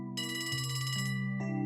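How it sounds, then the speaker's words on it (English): An old-fashioned telephone rings in the video game Trails From Zero, a bright electronic trill repeating steadily at close range, with no voices. "Telephone. A phone call."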